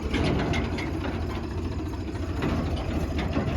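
A farm tractor's engine rumbles steadily at low revs while reversing in the dark, a continuous, fairly close mechanical drone.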